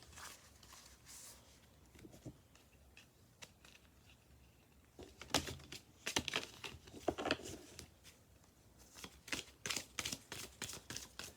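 Tarot cards are shuffled close and quietly, soft crisp riffles and light flicking bursts that come in clusters, growing denser toward the end.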